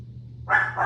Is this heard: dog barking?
yes